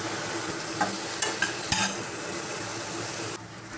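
Okra and onion frying in a pan, with a loud, steady sizzle and several quick scraping clinks from stirring before the frying noise drops lower near the end.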